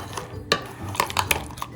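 Spoon clinks and scrapes in a bowl as paprika, garam masala and chili powder are mixed, a few sharp metallic taps with softer stirring in between, fairly quiet and close.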